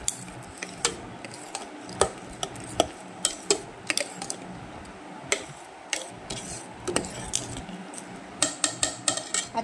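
A spoon clinks and scrapes repeatedly against a bowl while idli batter mixed with salt is stirred, sharp irregular taps over a soft wet background, no speech.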